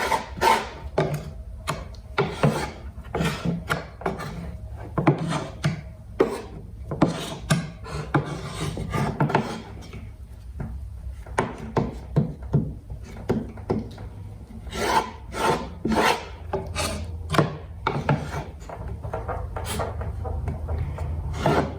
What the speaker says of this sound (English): scrape it, just keep kneading it back and forth until you don't see any more of the white